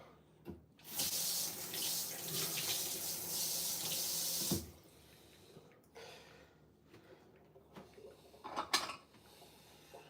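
A kitchen tap gushes into a sink for a few seconds of rinsing, loud and close, then shuts off, leaving faint clinks and knocks of dishes and handling afterward.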